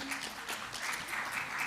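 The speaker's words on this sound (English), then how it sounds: "Give them a round of applause" Applause from a conference audience, a soft steady patter of clapping with a faint voice briefly audible beneath it.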